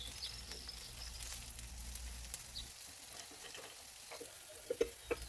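Onion, green chilli, ginger, garlic pieces and cashews frying in a pan for malai kofta curry, a soft, low, steady sizzle that thins out midway, with a few small clicks near the end.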